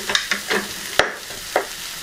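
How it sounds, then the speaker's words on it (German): Chicken borscht broth ladled into a hot pot to deglaze it, giving a few short sizzling bursts and clinks, with one sharp hit near the middle; close and fairly quiet, no talking. "Hier gebe ich einfach vielleicht noch ein bisschen was aus dem Topf an Brühe rein."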